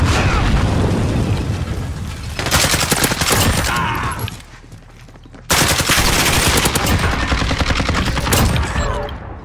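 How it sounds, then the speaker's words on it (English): Sentry gun in a shooter video game firing loud, sustained automatic bursts, with a short lull midway before another long stretch of rapid fire. "Friendly sentry gun online"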